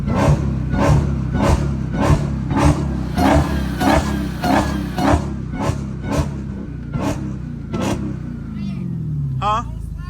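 Dodge Hellcat engine rumbling low and steady while a rapid series of sharp, evenly spaced bursts pulses over it, with a voice and a higher whine near the end.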